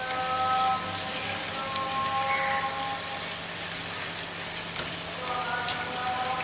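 Dry curry leaves fry in a pan for paneer 65, giving a continuous crackling sizzle like light rain, fairly close and even, with a faint tonal hum underneath.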